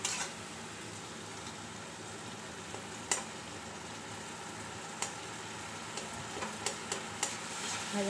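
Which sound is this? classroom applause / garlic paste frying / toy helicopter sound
garlic paste frying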